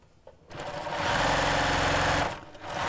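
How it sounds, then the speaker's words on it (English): A sewing machine runs fast and steady for about two seconds, stitching across the side of a curved-top tote bag with a lengthened stitch, starting and stopping after a quiet lead-in. It is close and loud, with no talking. "And just sew across each side."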